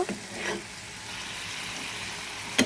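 Onions sizzle steadily in hot oil, a continuous frying hiss with a couple of soft stirring scrapes at the start and end.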